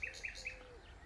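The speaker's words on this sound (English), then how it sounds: "Of course, that's a nightingale." A nightingale sings on the Suffolk coast, a brief run of three quick repeated whistled notes followed by a softer falling tail, fairly faint against an outdoor background.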